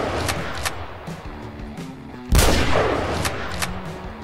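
Sniper rifle shots in Garry's Mod, a heavy sharp blast near the middle followed by a rumbling echo, with smaller clicks and distant shots around it, over a quiet game background.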